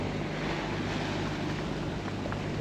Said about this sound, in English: And we start to enter in an open ocean.